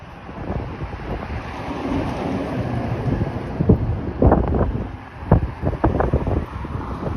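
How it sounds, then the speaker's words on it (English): Wind blows steadily outdoors along a city street, buffeting the microphone with a constant low rumble and occasional stronger gusts, no talking. "I can feel the wind blowing me, even though the wind is not that strong."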